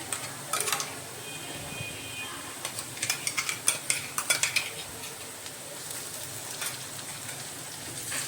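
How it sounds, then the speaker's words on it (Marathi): Spoon clinks and scrapes in a pan in short bursts as a ground spice paste is stirred and roasted in oil for a fresh field bean curry, with a soft frying hiss underneath. "तर हा आपण आता तेलामध्ये मिक्स करून घेऊया। भाजून चांगला।"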